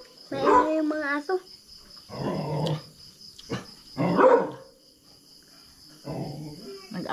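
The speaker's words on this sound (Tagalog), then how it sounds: "Nag-away na yung mga aso daw." Native dogs snarl and bark in short, harsh bursts of fighting and growling, close by, separated by brief pauses, with a constant high insect drone behind them.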